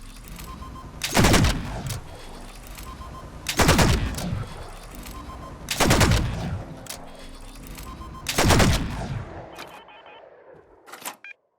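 Custom laser gun in a Fallout 4 mod: four loud, sharp firing blasts spaced about two and a half seconds apart, with charging hum between them and a quieter closing click and shot.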